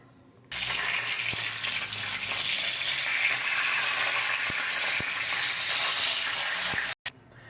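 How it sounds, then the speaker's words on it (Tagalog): Salted tilapia frying in hot oil in a home kitchen, giving a steady loud sizzle that starts abruptly and holds for about six seconds before cutting off, with a few faint clicks from the pan. "Tapos itong tilapia guys, ipreprito muna natin to."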